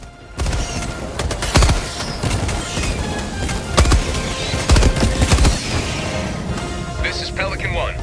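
Explosions and gunfire in the video game Helldivers 2, a dense barrage of booming blasts and rapid shots with several heavy impacts, loud and continuous, while a person talks over the action.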